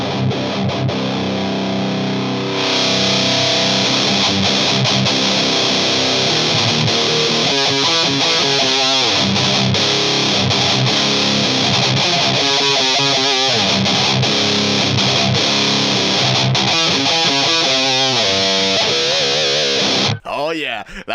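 High-gain Boss Metal Zone distortion pedal on electric guitar, a loud saturated tone playing riffs with chugging palm-muted passages and sustained chords, continuous and up close, ending with a brief abrupt stop.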